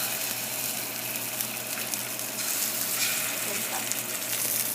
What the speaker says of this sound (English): Don't touch it, just leave it and let the skin crisp on one side